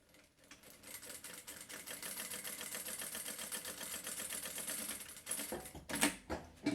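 Sewing machine stitching a seam on fabric for a small backpack, a fast rhythmic mechanical whir running steadily for several seconds, then slowing into a few short bursts, quiet and close with no talking.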